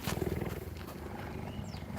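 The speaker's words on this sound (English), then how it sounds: "You can hear him purring as well." An adult cheetah purring up close, a deep, rumbling, rhythmic purr with quick pulsing beats that is strongest at first and then continues more softly.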